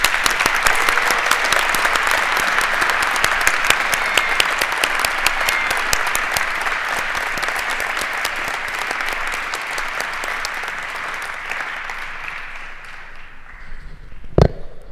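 A crowd at a naturalization ceremony claps steadily for new citizens, a dense, even roll of hand claps that holds strong and then thins slightly, ending with one sharp louder clap.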